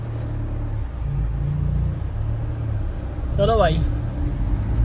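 A truck's diesel engine, on a vehicle with fuel pump and injector nozzle trouble, rumbles low and steady as it pulls away in first gear, with a brief voice cutting in over the engine.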